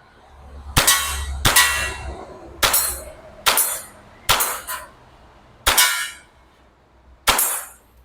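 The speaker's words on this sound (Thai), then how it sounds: "ต้องยิงเช็คระยะกันนิดนึงนะ" Shots from a WE Hi-Capa 5.1 K Custom BB pistol striking small targets about ten metres away: eight sharp, loud cracks with brief metallic clangs, spaced irregularly, each ringing out briefly, with no voices.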